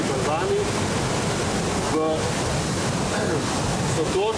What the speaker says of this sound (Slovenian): Voda gre hitro skozi skale